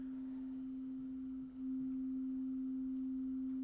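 A steady synthesized sine tone from a Punctual live-coding session holds one pitch throughout, loud and unbroken apart from a brief dip midway, with nothing else heard.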